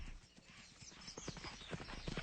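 Horses playing, their hooves clip-clopping in a quick, irregular patter of soft thuds, fairly faint and continuous with no talk.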